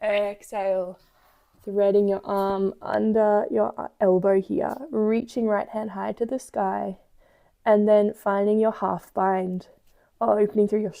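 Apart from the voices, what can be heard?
No distinct noise like a dog, phone or traffic.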